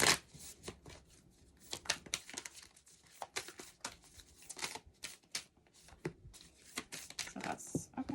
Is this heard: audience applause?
no